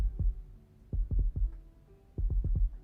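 A heartbeat sound effect in the Love and Deepspace video game: soft, low thumps in paired beats at a steady rhythm, fairly quiet and alone.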